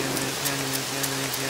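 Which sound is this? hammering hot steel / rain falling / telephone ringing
rain falling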